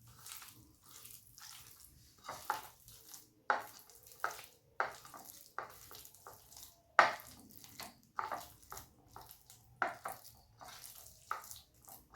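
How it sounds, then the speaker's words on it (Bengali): Wood apple pulp being hand-mixed with salt and mustard oil, giving soft wet squelching and sticky slaps in an irregular rhythm, close and fairly quiet, with no talking. "এবার আমি এটাকে সুন্দর করে মেখে নিলাম"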